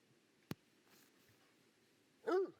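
A single sharp click, then a short, faint dog whimper or yelp near the end, in otherwise quiet surroundings, from the hunting video game theHunter: Call of the Wild.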